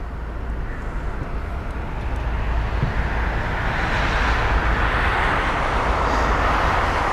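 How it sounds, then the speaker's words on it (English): A British Airways A320 arriving at London Heathrow on its flight from Pisa, its jet roar building steadily from a distant rumble to a louder broadband whoosh as it approaches, with no talking. "the last arrival of the day is going to be flight BA605, a British Airways A320 from Pisa"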